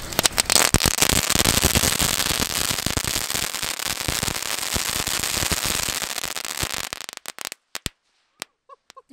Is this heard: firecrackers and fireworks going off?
yes